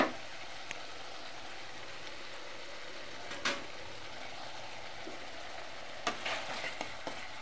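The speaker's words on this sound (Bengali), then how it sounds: "দিয়ে একটু ভালোভাবে নাড়াচাড়া করবো" Chicken with black pepper and vinegar stirred in a frying pan for chilli chicken rice, a soft continuous sizzle with a few sharp scraping clicks of the spatula, fairly quiet and steady throughout.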